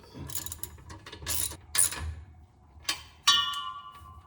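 A clamp is tightened on a muffler with a hand tool, giving short bursts of ratcheting clicks separated by pauses, fairly close and moderately loud.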